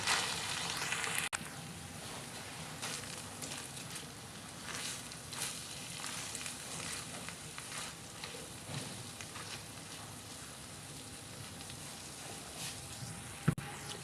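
Okra and chicken keema cook over a slow flame, giving a steady, soft sizzle and bubble throughout with a few brief clinks from stirring, and no talking.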